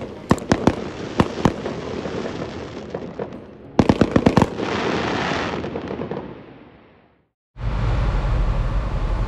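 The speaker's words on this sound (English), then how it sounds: "after a surprise firework display" Fireworks crackle and pop in rapid bursts, sharp bangs clustered together with rumbling between, then a brief silence before a loud rushing roar.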